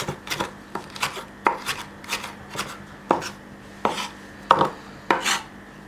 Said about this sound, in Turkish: soğanlarımızın lezzetlenmesi için karabiberle tuzdan tekrar doğruyorum